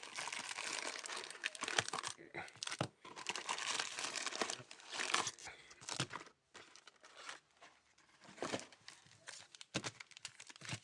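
The foil wrapper of a Magic trading card pack is torn open and crinkled up close, with irregular bursts of crackling and rustling and short pauses in between.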